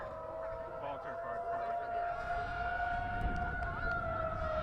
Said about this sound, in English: Viewers at home probably hearing the tornado sirens go off.